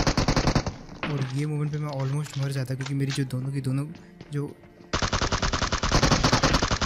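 Rapid automatic gunfire in PUBG Mobile, dense loud bursts of shots at the start and end with a brief lull between, under a voice narrating.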